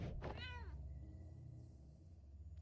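A cat named Boxer Kitty gives a single drawn-out meow in the game Impostor Factory, close and clear, rising then falling, followed by a quiet low hum.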